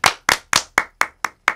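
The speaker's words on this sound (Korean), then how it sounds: "박수로 청해 드릴게요" Seven sharp, evenly spaced hand claps ring out close and loud in a Korean radio studio during a live broadcast, each crisp clap fading quickly before the next.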